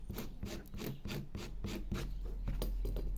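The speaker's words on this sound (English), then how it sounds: "with a sharp implement, screwdriver or something like that, just scrape the top like that" A steady back-and-forth scraping rasp, close and rhythmic, of a screwdriver dragged repeatedly across the rough, fibrous top of cardboard.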